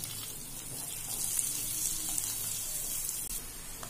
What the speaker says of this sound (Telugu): गोल्डन कलर वच्चे वरकु आनियन फ्राई चेसुकुंदामंडि